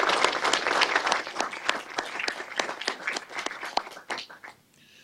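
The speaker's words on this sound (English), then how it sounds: "join me in a round of applause for Claudia" An audience at a conference gives a round of applause for Claudia, a dense, steady clapping from a roomful of people lasting about four seconds before tapering off.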